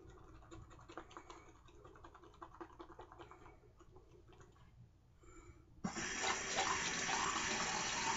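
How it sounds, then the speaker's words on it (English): Water runs from a tap onto vintage Williams shaving soap, a steady close splashing hiss that starts abruptly after several seconds of quiet scratching and handling sounds, with no talking. "I'm going to add some water to that."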